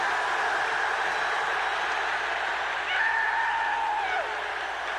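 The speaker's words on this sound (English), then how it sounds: "Crowd coming to its feet in Dallas." A Dallas arena crowd at a 1984 NBA playoff game, Lakers at Mavericks, rising to its feet with a sustained roar and scattered applause that swells slightly near the end, under faint commentary.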